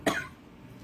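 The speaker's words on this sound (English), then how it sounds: "So I'm going to start coughing if I don't start reading" A single short, sharp cough from a person at a live evening tarot-style card reading, quiet and close, followed by a low room hum.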